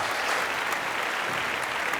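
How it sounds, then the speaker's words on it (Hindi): A conference audience at a real estate awards event in Hyderabad claps vigorously to welcome the chief guest, producing a brief, steady, dense burst of applause with no talk. "श्री KT रामाराव जी का जोरदार तालियों से स्वागत करें।"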